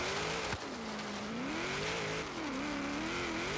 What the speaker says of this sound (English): A little too much wheel spin out of there